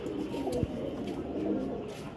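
Pigeons, including a golden male and a teddy, coo softly and steadily in a loft, a low continuous murmur of overlapping birds with one brief louder thump partway through.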